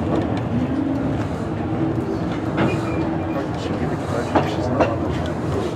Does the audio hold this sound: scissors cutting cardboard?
no